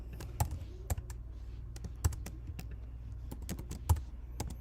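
Fingers tapping a computer keyboard in quick, uneven bursts of clicks, close and clear over a low steady hum, with a few heavier keystrokes standing out and no talking.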